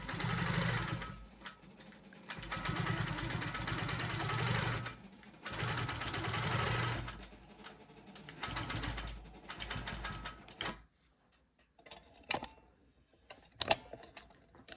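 A sewing machine stitches a quarter-inch quilt seam in several close bursts of rapid whirring separated by brief pauses, ending with scattered clicks and handling sounds, with no talk.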